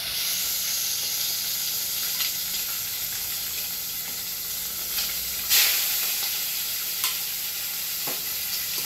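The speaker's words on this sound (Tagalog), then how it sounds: "Ang gagawin ko muna is ipiprito ko muna itong chicken." Chicken frying in a pan for a tinola dish, giving a steady, moderate sizzling hiss with a few brief louder crackles and pops, with no voices.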